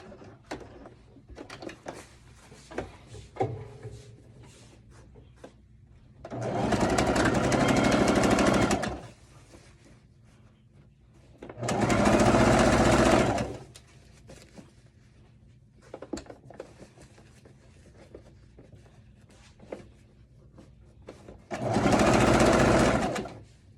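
Three separate runs of a sewing machine stitching evening dress fabric, each a few seconds long and fairly loud, with quiet handling noises and pauses between bursts.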